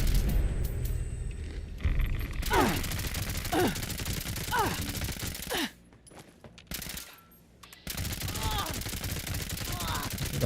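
Rapid bursts of gunfire from the video game Fallout 76, repeated volleys of shots with brief gaps and a short lull partway through, loud and dense throughout.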